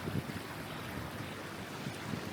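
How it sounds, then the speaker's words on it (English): Gentle river water ripples and laps against limestone in a soft, continuous rush, steady and unbroken, with no voices. "It ripples against the limestone, the soft breaking of water around a stone"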